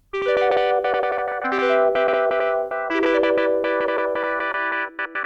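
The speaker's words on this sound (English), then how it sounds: "it's giving us a bit more of a glitchy speed with that pseudo echo or pseudo delay effect." An Arturia MicroFreak synth lead preset plays sustained, stepping notes with a cycling envelope that gives a glitchy, stuttering pseudo-echo or delay, loud and continuous with no voices.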